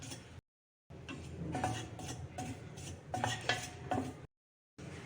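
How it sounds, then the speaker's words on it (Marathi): Sprouted ragi flour roasting in a little ghee over a very low flame is stirred in a pan, soft scraping and clinking of a spoon against metal close by, with brief gaps of silence and no talking. "अगदी मंद आचेवर आता हे पीठ आपण भाजून घेणार आहोत"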